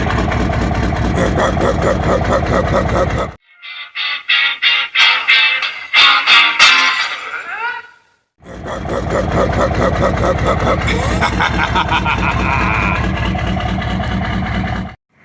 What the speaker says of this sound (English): Oh, it's sounding good. The idle sounds a little low.